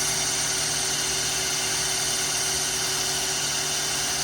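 An electric drill at high speed spins a stock engine oil pump on a 273/318 engine in a 1971 Dodge Demon, giving a steady, even whine and buzz with no talk.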